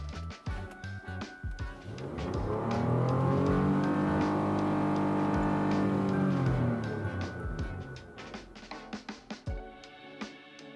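A 2023 Lexus RX 350 engine, heard from inside the cabin, climbs from idle in a smooth rev toward 6,000 RPM, holds a loud sustained hum, then falls back to idle amid clicks and handling noises.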